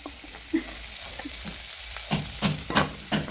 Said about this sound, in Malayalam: ഇഞ്ചി വെളുത്തുള്ളി ഇട്ടു ഇളക്കണം